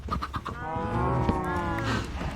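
Cows in a Minecraft farm herd moo in a long, drawn-out low call, preceded by a few quick short grunts, close and clear with no talk.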